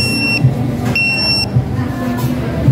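Order pager alarm at a Jollibee fast-food restaurant, beeping in two long tone bursts against busy dining-room chatter and background noise.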